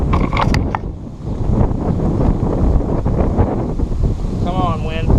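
Strong wind roars steadily across the microphone outdoors beside a top bar beehive on slippery ground, a continuous close buffeting rumble with a brief whistle near the end.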